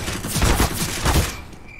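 Video game gunfire: a brief, loud burst of rapid shots lasting about a second, close and dense, then trailing off.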